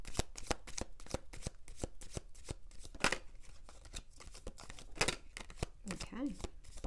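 Tarot cards are shuffled close up in a steady run of crisp riffles and slaps, with a voice murmuring briefly near the end.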